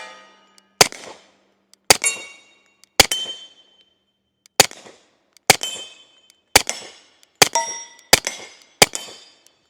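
Nine shots from a suppressed SIG 1911 Series X .45 pistol, each a sharp, close crack with a short ringing tail, fired singly at irregular one-second intervals, the last few coming quicker.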